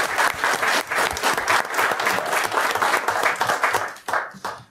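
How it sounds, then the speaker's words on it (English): An audience at a city council meeting breaks into sustained applause, dense and steady at first, then thinning out and fading toward the end. "Maybe let's do one more round of applause for these guys."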